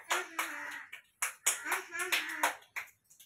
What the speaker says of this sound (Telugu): క్లాపింగ్ అంటే చప్పట్లు కొట్టాలి.